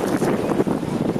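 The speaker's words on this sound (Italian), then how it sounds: "Questo è un vento malandrino." Wind gusts across a microphone outdoors at a street protest in front of a senate building, a dense steady rushing roar with slight swells and no voices.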